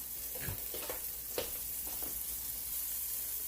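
Pork chops and sweet potatoes fry in a pan with a soft, steady sizzle, punctuated by a few light clinks and stirs near the start, close and fairly quiet.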